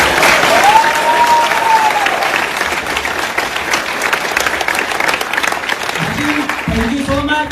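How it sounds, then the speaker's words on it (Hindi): Loud, sustained applause from an audience in a hall, honoring the speaker's mother at a company manager celebration, steady clapping throughout with a few low thumps near the end. "मेरी मम्मा के लिए एक बार जरूर जोरदार क्लैप कीजिए"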